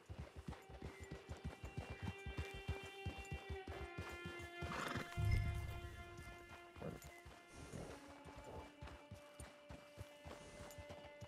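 Hooves clip-clop in a steady rhythm while a horse in Red Dead Redemption 2 snorts and lets out a whinny midway, over a soft musical background.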